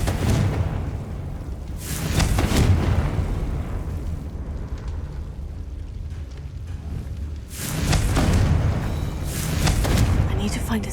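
Confringo spell blasts in Hogwarts Legacy: two loud booming explosions with rumbling tails, the first early and the second around the middle, over continuous game ambience.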